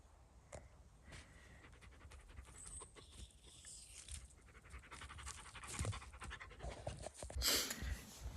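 A dog pants rapidly and steadily in a forest shelter camp, close and fairly quiet, with a brief whimper and rustling toward the end.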